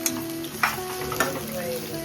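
Slices of bitter gourd fry in a pan on a village stove, giving a soft steady sizzle with a few sharper clinks as they are stirred.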